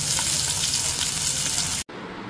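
Fish frying in a pan, a loud continuous hot-oil sizzle up close, briefly cut off before resuming.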